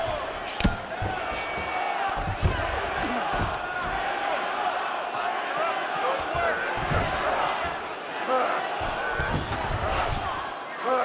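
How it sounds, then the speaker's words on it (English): A video game arena crowd at a UFC 5 fight roars and cheers in a continuous wash of noise, with scattered thuds of strikes and a commentator talking over it. "the crowd is loving it"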